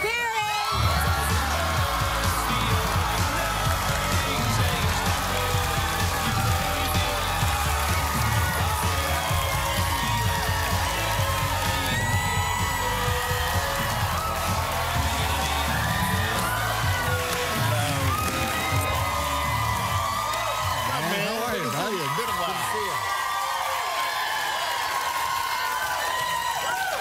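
A television studio audience cheers, whoops and applauds to welcome actor Matthew Perry, a dense, loud and sustained crowd roar with shouts rising over it throughout.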